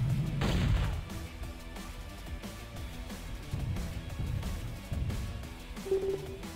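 A Howler unit firing its weapon in the strategy game Techwars Online, one heavy boom near the start, then duller thuds and rumbles scattered after it at a moderate level, with no talk.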